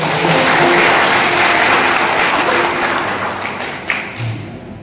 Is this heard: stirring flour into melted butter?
no